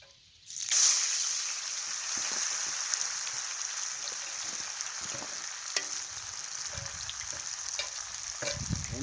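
Bacon, hash browns and eggs frying in a pan over an open fire, with a loud steady sizzle that starts abruptly and continues throughout with occasional pops and crackles.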